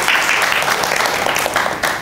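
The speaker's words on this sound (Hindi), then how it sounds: "भरपूर तालियाँ।" An audience at a literary poetry evening gives loud, dense applause as a guest poet is called up, steady clapping throughout with a slight swell near the end.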